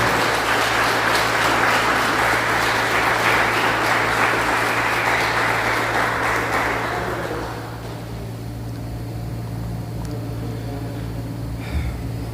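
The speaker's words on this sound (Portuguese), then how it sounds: "Vamos dar um aplauso para Jesus?" A church congregation at a meeting claps loudly and steadily for several seconds, then the applause fades to a quieter murmur with low hum underneath.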